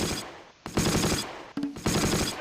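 Machine gun fire in the wartime strategy game Close Combat: Last Stand Arnhem, set around a tower, comes in three dense, loud bursts separated by short pauses, with no talking over it.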